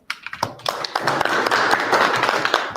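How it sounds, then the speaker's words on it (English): A small group of people at a Rotary Club meeting claps for themselves, starting with a few scattered claps and building into steady, close applause for a few seconds. "let's clap for ourselves"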